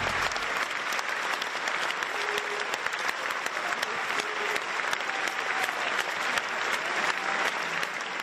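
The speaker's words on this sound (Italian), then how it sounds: "Grandissimo applauso" A large crowd applauds continuously and loudly, a dense, sustained clapping that holds steady throughout without a pause.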